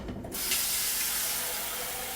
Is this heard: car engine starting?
no